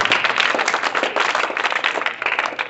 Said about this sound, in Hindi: इसके लिए ताली बजा दो